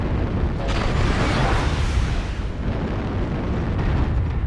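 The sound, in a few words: artillery strike explosions in MechWarrior Online video game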